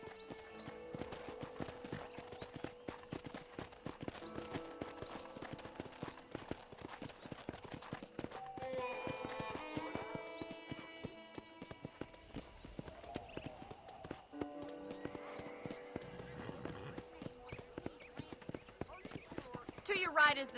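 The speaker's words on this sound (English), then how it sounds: "let's see if you can still ride a horse." Horse hooves clip-clop steadily in a rhythmic riding gait within the Red Dead Redemption western ranch setting, with an occasional whinny; the galloping runs continuously over game music and ambient sound, with voices talking now and then.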